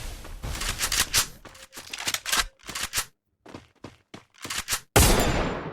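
Bursts of rapid gunfire from the Free Fire battle royale mobile game, several volleys of sharp shots separated by short gaps, with a louder burst near the end, no talking over them.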